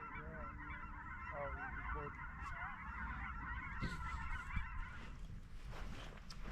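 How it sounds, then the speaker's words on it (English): A large flock of Canada geese and snow geese in Oregon honks continuously in the distance over a river, a dense overlapping chorus of calls that thins out toward the end, with faint background noise underneath. "they're kicking up all the Canadian geese and snow geese"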